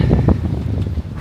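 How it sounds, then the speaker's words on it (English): Wind buffeting a microphone outdoors during a walk after a football match, a steady low rumble with gusty swells running through the whole moment, close and fairly loud, with no voices. "whoa, it's windy."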